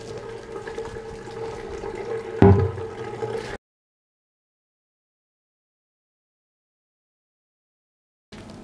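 Cleaning liquid trickles and splashes steadily from an upside-down beer keg into a bucket, with a single knock partway through, then the sound cuts to silence.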